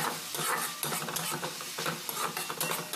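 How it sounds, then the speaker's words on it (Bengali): Chili, turmeric and coriander powder stirred into tomato in a pan, quiet scraping and stirring strokes over a soft sizzle, continuous and close. "ধনে গুঁড়ো দিয়ে ভালো করে এইভাবে মিক্স করতে হবে টমেটোর সঙ্গে"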